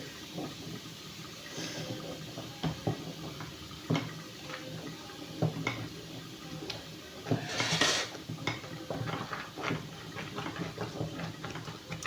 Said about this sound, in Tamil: கொதிக்கிற சவுண்டு வருதுங்களா